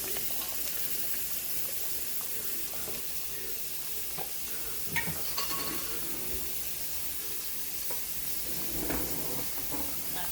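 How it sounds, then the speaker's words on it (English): Onions sizzle steadily in a hot pan while Spanish rice is being cooked, a continuous broadband frying hiss with occasional stirring clinks and brief louder crackles near the middle and end. "Add our onions."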